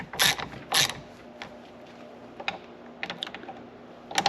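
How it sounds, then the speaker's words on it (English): Wrench turning screws on a Minn Kota Terrova trolling motor steering housing, a few sharp metallic clicks and ratcheting ticks in quick clusters, close up, with no talking. "Now I'm just going to use a wrench because I don't want to break any more of these off"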